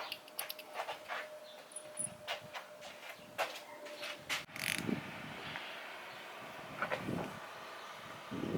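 Husky ratchet working loose the head bolts on a motorcycle engine during a Kawasaki KX500 engine swap, with repeated close clicking strokes and metallic mechanical sounds in a garage, no talking.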